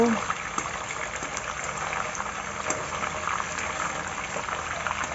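Tofu frying in a wok or pan for a stir-fry with chili paste and basil, a steady close sizzle and crackle of hot oil throughout.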